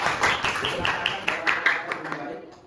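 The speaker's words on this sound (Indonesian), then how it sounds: "tepuk tangan untuk teman kalian" A classroom of students applauds a classmate who has just read aloud. The clapping is dense and steady, with voices mixed in, and it fades toward the end.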